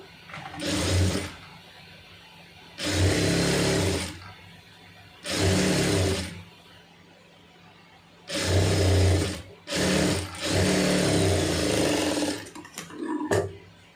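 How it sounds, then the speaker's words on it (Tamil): Sewing machine stitching along the joint of a gathered puff sleeve, running in several bursts of steady whirring separated by short pauses, loud and close with no talking. "அந்த ஜாயிண்டில் தையல் ஓட்டிடுங்க"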